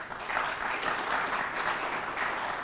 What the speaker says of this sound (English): give a nice round of applause to the Rockford Lutheran Crusaders